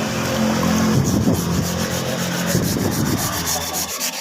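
A motorbike body panel is sanded by hand to clear off stubborn old glue, a continuous close, loud scraping rub that keeps an even back-and-forth rhythm, with no voices.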